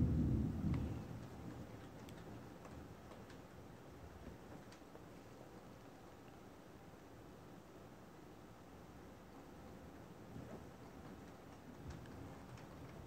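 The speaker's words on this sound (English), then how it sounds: "It's a thunderstorm." Thunderstorm with pouring rain, a low rumble of thunder at the start fading into a steady, soft wash of rain noise.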